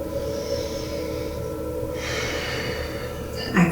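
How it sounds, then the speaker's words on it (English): During a yoga session, a long, airy exhalation streams out close to the mic and swells in the middle, followed by a short sharp catch of breath at the end, over a faint steady background hum. "exhaling"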